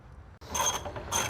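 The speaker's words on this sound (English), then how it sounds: "So we'll go ahead and loosen up all of the U-bolts" A ratchet wrench loosens U-bolts on the rear leaf-spring suspension of a 340 Dart, with two short bursts of rapid metallic clicking, close up, after a quiet moment and no talking.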